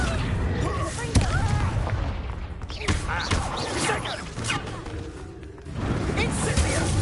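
Confringo spells blast repeatedly in Hogwarts Legacy combat, producing loud booms and crashing impacts mixed with whooshes, under a player's excited talk throughout.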